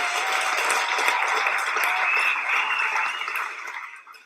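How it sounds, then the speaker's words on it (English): Sustained applause from a crowd, a dense even wash of clapping that holds steady for several seconds before tapering off at the end. "Let's get some of that good applause in here"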